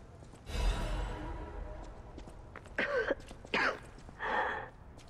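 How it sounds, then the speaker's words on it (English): Someone coughs a few times in a Lies of P game scene on Elysion Boulevard, short rough bursts spaced apart after a longer breathy sound, at moderate distance with no talk. "Just heard somebody coughing."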